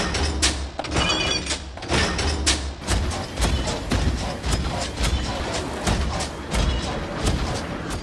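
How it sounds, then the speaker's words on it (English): Heavy mechanical stomping of a Star Wars AT-ST walker, loud booming thuds repeating in a steady marching rhythm with metallic clanks and hiss layered over a deep rumble. "Next up we have the AT-ST Walk."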